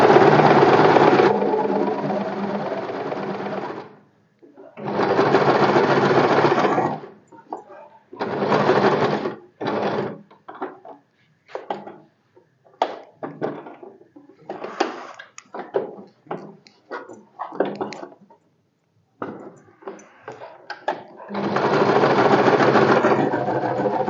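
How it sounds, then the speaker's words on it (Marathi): Sewing machine stitching a sleeve seam on a garment, running in several long loud bursts and many short rapid stitches separated by pauses. "दाब शिलाई मारून घ्यायची कटोकट मस्त."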